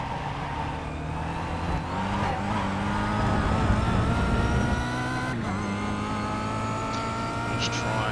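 Kia Optima race car in the iRacing sim at Monza, a steady engine drone holding at mid revs with tyre noise layered on top, continuous and close throughout.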